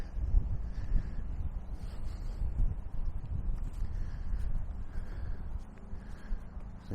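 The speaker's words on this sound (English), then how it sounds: "it's windy here." Wind buffets a body-mounted camera microphone outdoors beside a football ground in the Ardmore area of Armagh City, a constant low rumble with gusty swells and faint distant bird caws.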